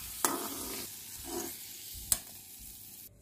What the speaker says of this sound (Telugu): ఇది కూడా ఒక్కసారి వేయించుకున్నా ఇవి ఎమ్మటే వేగిపోతాయి